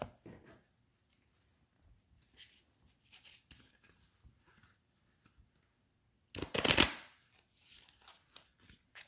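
A Romance Oracles oracle deck is handled with soft scattered card taps, then one loud riffle burst near the end, close and otherwise quiet.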